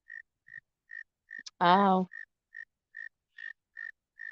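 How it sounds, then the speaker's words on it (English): A single insect chirps outdoors at night, the repeated short chirps evenly spaced and fairly loud, interrupted briefly by one person's vocal exclamation. "can you hear the crickets?"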